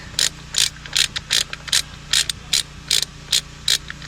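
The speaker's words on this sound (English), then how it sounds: "using a 3/4 inch socket here to take this guy off" A 3/4 inch socket wrench ratchets against a clutch bolt on a 2020 Can-Am Outlander 650 XMR, giving a close series of about a dozen crisp, clicking bursts in a quick, uneven rhythm.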